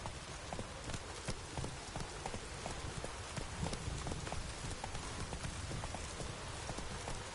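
Roach the horse trots in The Witcher 3, hooves clip-clopping in a steady rhythm over a constant rain-like wash of outdoor ambience.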